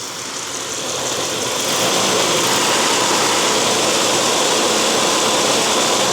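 A Nissan Xterra 3.3 engine starts up and settles into a steady idle after a new passenger-side exhaust manifold was fitted, a continuous even hum heard up close with no voices.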